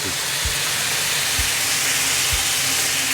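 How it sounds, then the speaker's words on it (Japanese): Pasta sauce for spaghetti with yellowtail and broccoli bubbling hard over high heat in a pan: a steady loud hiss with soft, low pops recurring about once a second. "もうずっとこう強火で、グツグツ"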